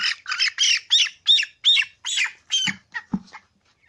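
A 17-day-old broiler chicken squawks while being set on a weighing scale, giving about ten loud, close, shrill calls in a quick uneven series before falling silent.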